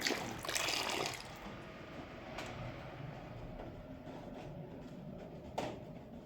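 Water poured off a green gold pan outdoors, a soft continuous wash and trickle with a couple of sharper splashes, fairly faint and heard alone without talk.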